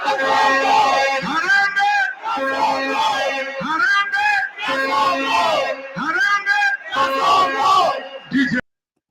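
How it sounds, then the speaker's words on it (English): Charged football crowd at Nyayo Stadium during a Kenya match, chanting in loud, repeated rhythmic phrases with many voices together, a cadenced roar that rises and falls several times before cutting off abruptly. "That was a charged crowd at Nyayo Stadium, and they were saying that Ruto has to go"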